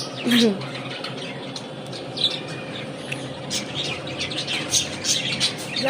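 A caged parakeet gives scattered short chirps and squawks, with other birds nearby, heard under ongoing talk and household background noise.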